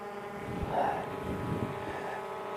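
A Skydio R1 or GoPro Karma drone descending to land outdoors, its rotor whine a steady hum swelling slightly as it nears, with wind rumble on the microphone.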